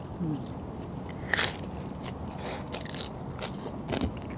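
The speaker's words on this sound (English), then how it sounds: "The texture of the clams goes so well with the crunch of the tortillas" Someone bites into the crunchy fried tortilla of a clam tostada, giving a sharp crackling crunch followed by softer scraping and chewing sounds against a steady background hiss.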